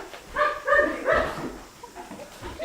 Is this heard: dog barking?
yes